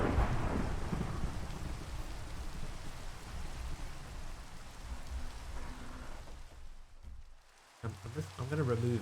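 Rain falls steadily in a Minecraft game while thunder rumbles low underneath, fading out before a short burst of other game noise.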